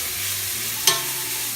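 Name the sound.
pork browning in a wok on an induction cooktop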